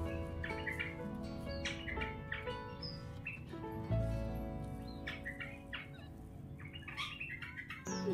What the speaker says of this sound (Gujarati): જો અહીંયા બુલબુલ આવ્યું છે